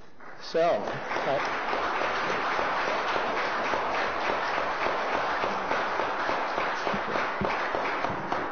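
An audience claps in a committee meeting room, a dense, sustained patter of many hands that runs steadily throughout, with a brief voice near the start.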